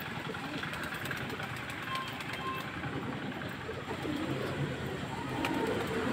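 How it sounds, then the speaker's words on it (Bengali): Pigeons leave their loft one by one as the coop is opened, with soft cooing and wing flutters over a low steady hum, fairly close and continuous. "দেখতে পাচ্ছ একে একে কিন্তু পায়রা বেরিয়ে আসছে"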